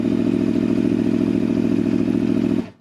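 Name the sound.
Aprilia Tuono 1100 RR V4 motorcycle with Akrapovic exhaust starting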